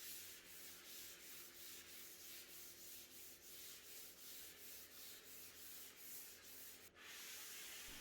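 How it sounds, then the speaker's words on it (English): A painted dresser is hand-sanded with a 400 grit sanding sponge, making soft, steady back-and-forth rubbing strokes in an even rhythm, close and fairly quiet, with no talk. "I go over the painted areas with a 400 grit sanding sponge just to get a super smooth surface"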